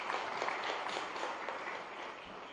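Faint applause from a crowd at a government event in Gandhinagar, a steady patter of clapping heard from a distance.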